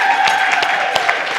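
An audience at a Third Quarter Women awards event applauds steadily as three finalists come to the stage, a dense, continuous patter of clapping for the whole stretch.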